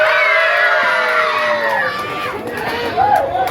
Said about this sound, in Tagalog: hindi rin po ako magsisimula kung walang palakpakan na makaisamang sigawan